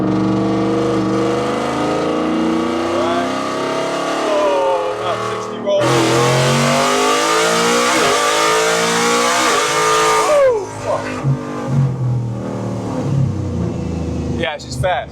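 Supercharged Ford F-150 pickup with a centrifugal supercharger and stock transmission accelerating hard in third gear, a loud rising engine roar with whine climbing in pitch, shifting between gears, and someone talking over it.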